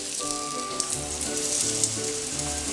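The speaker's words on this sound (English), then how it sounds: "I'm going to put some cooking oil into a really, really hot pan. Then in goes my cod." Cod fillet frying in cooking oil in a very hot pan, giving a steady, loud sizzle with crackling spits throughout, close by and with no voices.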